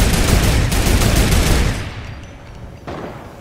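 Gunfire in a Fortnite match, a loud, dense burst of rapid shots that fades into a quieter echo, followed by one more distant report near the end.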